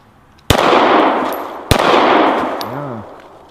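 Two sharp, loud gunshots from a Smith & Wesson M&P 9mm 2.0 pistol, about a second apart, each cracking close by and ringing out into a decaying outdoor echo.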